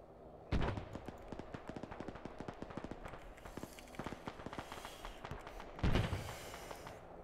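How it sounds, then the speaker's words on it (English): Sporadic gunfire in an Iraq military campaign video game, many sharp cracks and pops in uneven bursts with two heavier booming shots, some distant and some close, over a constant background rumble. "Possible contacts north. Hearing sporadic gunfire."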